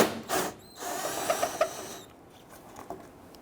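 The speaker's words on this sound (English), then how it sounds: "I'm just using an extension with a 10mm socket." A ratchet with an extension and 10mm socket turns the fog light screws on a 2006-2010 Hummer H3, giving a few quick clicking bursts, close and moderately loud, then quieter handling noise.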